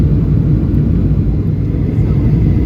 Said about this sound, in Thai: เพราะว่าเครื่องบินมันเริ่มลงเลยค่ะ